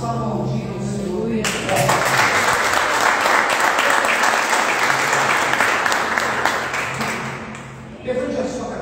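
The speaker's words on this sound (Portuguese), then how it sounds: "vamos aplaudir o Senhor" A church congregation seated at a family worship service breaks into sustained applause, a dense, loud wash of clapping lasting several seconds before tapering off, with brief speech before and after.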